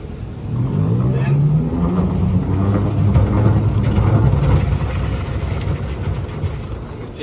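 A salad spinner whirs with washed salad greens inside, a steady, loud rotating rumble lasting several seconds, with a person talking over it.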